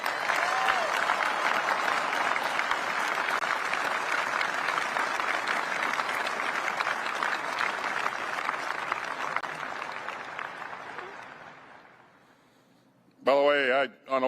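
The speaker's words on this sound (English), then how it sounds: "So let's give the entire workforce a round of applause." A large crowd gathered for the unveiling of the B-21 stealth bomber breaks into sustained, dense applause that swells and holds for about ten seconds before fading out, followed by a brief burst of speech.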